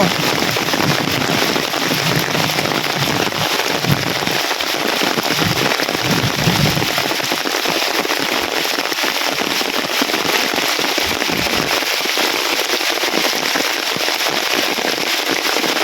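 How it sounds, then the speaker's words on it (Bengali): Heavy village rain pours down in a dense, roaring hiss that stays loud and unbroken, with scattered close spatters and drops striking surfaces. "প্রচুর পরিমাণে বৃষ্টি হতেছে যেটা কল্পনার বাইরে"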